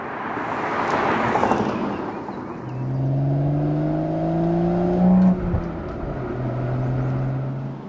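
A BMW Z4 M40i with the B58 engine and six-speed manual pulls through the gears at moderate revs, a steady engine drone rising in pitch with a brief gear change, heard from inside with road rumble.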